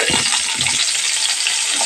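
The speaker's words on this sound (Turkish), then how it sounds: "Ve kabak da dahil kızartacağım." Steady hiss of mixed vegetables, including courgette, frying in hot oil, with a few soft stirring clunks near the start, close and continuous.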